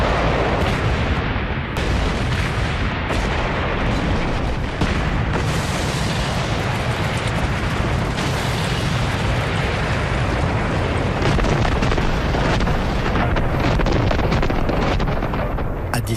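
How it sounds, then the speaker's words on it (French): A massive artillery bombardment at Verdun in 1916 roars on without pause, with cannons firing shells along the front. Blasts and booms blur into one loud rumble. "1291 canons tirent 1 million d'obus sur 20 km de front"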